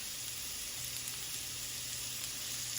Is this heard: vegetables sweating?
yes